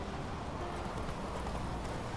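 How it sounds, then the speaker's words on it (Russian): Horse hooves clip-clopping in the video game The Witcher 3, a soft steady rhythm of hoofbeats under a dense, noisy game background. "Вот она, лошадь. Поехали."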